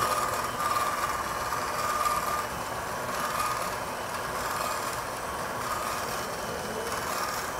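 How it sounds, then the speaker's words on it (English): An electric pasta machine with a belt system rolls out sheets of tortellini dough, giving a steady, moderately quiet mechanical hum and whir that stays even throughout. "Now I just let the machine do the work."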